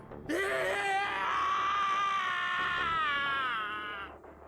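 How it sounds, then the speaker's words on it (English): A male game character lets out one long, loud, anguished scream of rage and despair in an incineration chamber in the 999: 9 Hours, 9 Persons, 9 Doors video game, rising sharply and sustained for several seconds before tapering off. "His scream echoed through the incineration chamber full of rage and despair."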